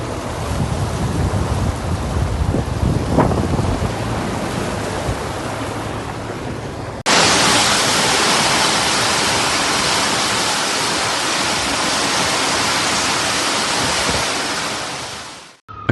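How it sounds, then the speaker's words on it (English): A storm in the Aniza area of Al Qassim, Saudi Arabia, with strong winds and heavy rain: a rumbling, gusty roar that jumps to a loud, steady, dense rush of wind and rain midway and holds until the end. "Several videos circulating on social media show the storm, with strong winds, heavy rain, hail, and even flooding, battering the area."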